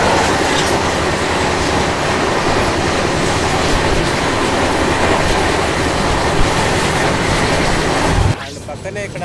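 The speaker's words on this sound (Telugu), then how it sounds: "ఇదిగో ధనుష్కోటి వెళ్ళే ట్రైన్" Loud, steady rumble of a train bound for Dhanushkodi rolling past near Madurai Junction in southern India, dense and continuous for most of the clip before cutting off abruptly near the end.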